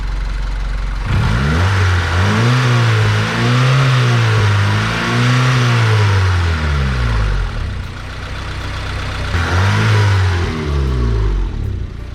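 A 1998 Honda Civic engine revs up loudly several times, pitch climbing and falling in repeated surges, then settles before one more burst of revving near the end.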